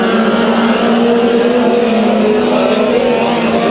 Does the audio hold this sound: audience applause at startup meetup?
no